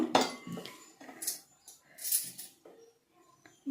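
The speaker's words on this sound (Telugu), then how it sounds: "గడ్డలు లేకుండా మనం కలుపుకుంటాము" Beetroot decoction hair dye being mixed in a bowl to work out the lumps: a few sparse clinks and scrapes of a utensil against the bowl, close and quiet, with pauses between strokes.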